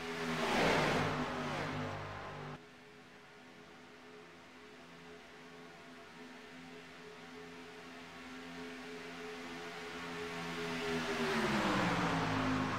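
Super late model race cars roar around a track: a loud pass at first, then a steady, droning engine note that swells again toward the end.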